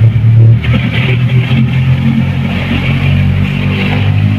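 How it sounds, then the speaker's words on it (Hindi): A Kawasaki Ninja 1000 sport motorcycle with a loud aftermarket exhaust idles loudly and close, with a rough throbbing rumble and a brief rise in revs at the start, no voices. "अभी बाइक शुरू होने वाली है और आवाज"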